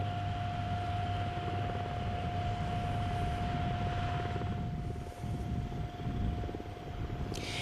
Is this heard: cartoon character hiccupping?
no